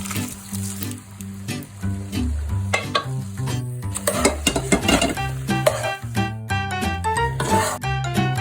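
Ground chana dal paste fries into halwa in a pan, with frequent metallic scrapes and clinks of a spoon stirring the thick mixture against the pan, heard under steady background music.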